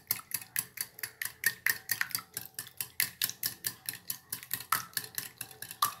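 Egg mixture for French toast is whisked briskly in a bowl, a fast steady run of light clinking taps as the utensil strikes the sides, close and quiet with no talk.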